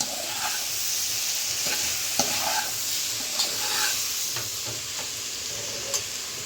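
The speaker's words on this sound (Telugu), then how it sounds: "ఇప్పుడు మూత లేకుండా ఒక 2-3 మినిట్స్ ఫ్లేమ్ కొంచెం హై చేసి దీన్ని వేపుకుందాం మనం" Chopped ivy gourd (dondakaya) fries uncovered in a pan over a high flame, a steady bright sizzle with occasional scraping stirs and clinks of a spatula, close and continuous.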